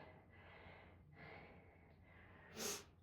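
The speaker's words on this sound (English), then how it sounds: "you can hear me breathing now, can't you?" Heavy breathing during a kettlebell workout, with several long, audible exhales in a slow rhythm and a sharp, forceful puff of breath near the end, close and fairly quiet.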